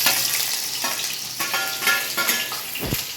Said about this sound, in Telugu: ఇది కొంచెం దోరగా వేసుకుంటాను అన్నమాట